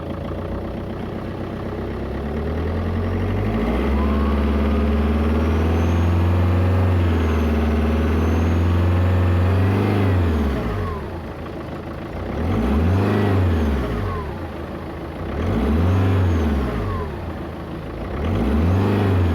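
A 2.0 HDi diesel car engine revs up and down several times with a rising whistle and whine from the turbo. The revs climb and fall in loud, close swells over a steady idle.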